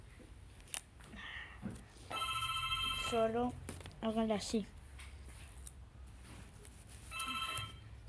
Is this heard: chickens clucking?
no